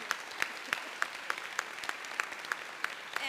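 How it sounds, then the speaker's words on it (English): Audience applause at a convention for an international Greens panel, a steady wash of many hands clapping at moderate distance with a few sharper individual claps standing out, no voices over it. "they deserve a round of applause"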